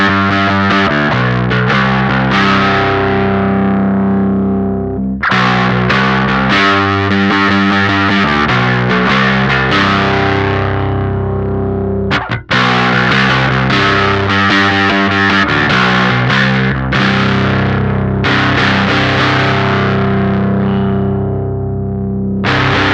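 Bass guitar played through an O.C.E. Lineman distortion pedal with the tone knob turned down, giving loud sustained distorted notes and chords that ring out, briefly cut off near the middle, then resume.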